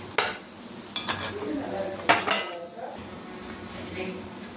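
Cooked aval rava kuzhi paniyaram are lifted from a hot oiled paniyaram pan, with sharp metal clinks and scrapes of a utensil against the pan over a soft background sizzle.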